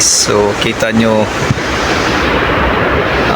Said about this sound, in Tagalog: Super lakas ng hangin at ang lakas ng alon guys.